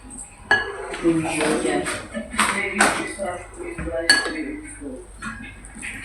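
Pork chops are tossed and mixed by hand in a bowl for marinating, with close, busy clinks and scrapes of dishes and utensils and light shuffling, going on steadily under occasional speech.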